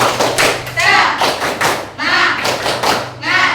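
A class of schoolchildren claps out a rhythmic cheer, loud patterned bursts of hand claps in repeating groups, with children's voices chanting along.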